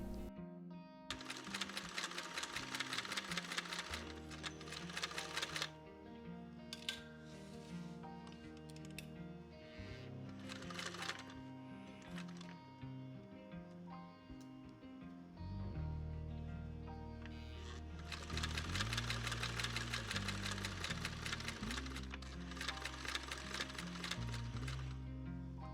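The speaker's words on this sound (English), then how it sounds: "Machine baste the pleats in place." A sewing machine machine-bastes fabric pleats in place for blouse sleeves, its fast stitching rattle coming in two busy stretches under steady background music.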